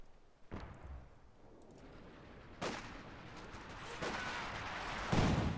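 Booming pack howitzer shells in a video game battle, several heavy reports at irregular intervals over a constant rumble of distant gunfire, the last blast loudest and closest.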